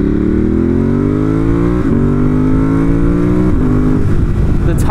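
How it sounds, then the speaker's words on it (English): A 2018 Ducati Monster 1200 S engine revs with the clutch pulled in, loud and close, its pitch rising steadily in several climbing sweeps, with a brief dip between them and a final sharp rise at the end. "when you pull in the clutch and try to give it some revs"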